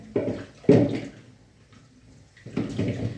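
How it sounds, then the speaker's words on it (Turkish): Peeled potatoes being washed under running tap water in a sink, with short splashing bursts separated by quieter pauses, close by. "Şimdi de patateslerimizi yıkıyorum değerli takipçilerim."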